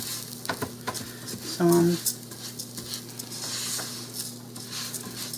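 Rice stirred through a little leftover oil in a pressure cooker pot, with light scraping and a faint sizzle up close, under brief talk.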